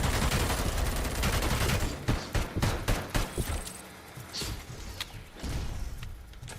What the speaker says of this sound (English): Oh, heavy machine gun.